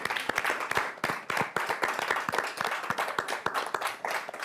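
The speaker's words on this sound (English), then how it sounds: "We give them all a round of applause." Audience applause following a panel conversation with party leaders, a steady patter of many hands clapping throughout, fairly close and even with no talk over it.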